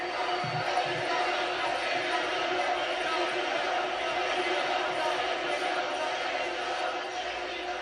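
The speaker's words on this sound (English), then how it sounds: "The fans stand here in San Jose, erupt, applauding both men for a hell of an effort." Wrestling arena crowd in San Jose on its feet applauding after a hard-fought match, a broad far-off roar of clapping and cheering held steady throughout, with a commentator talking over it.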